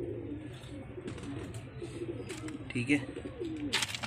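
Cross-breed pigeons coo softly in a loft, low murmuring calls with a brief flutter near the end, while someone speaks a word over them.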